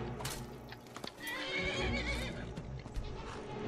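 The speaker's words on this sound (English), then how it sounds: "They're attacking the horse." In the video game Skyrim, a horse neighs and whinnies loudly while it is under attack, with hooves clopping around it and busy combat noise behind.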